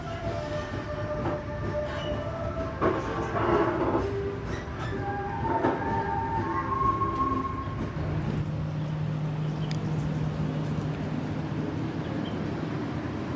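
Menoreh passenger train pulling into Pekalongan station, a steady rumble of railcars with long, high metal wheel squeals and brake screeches rising over it as the train slows.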